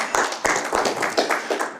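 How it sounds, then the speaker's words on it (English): A small group claps for a guest during a chairmen's conversation event, with several distinct bursts of hand claps in an uneven rhythm, close and moderately loud. "let's give him a round of applause also"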